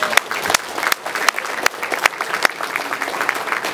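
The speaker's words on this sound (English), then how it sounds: "And I think that deserves a round of applause." Audience applause in a room, with distinct sharp claps standing out from a dense, uneven patter of hands, fairly close and lively, with no talk over it.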